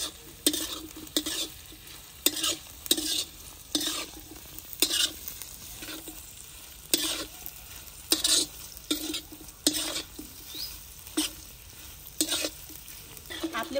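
Bombay duck fish being stir-fried in oil with salt and turmeric: rhythmic spatula scrapes against the pan recur every second or so over a low, steady sizzle, close up and with no talking.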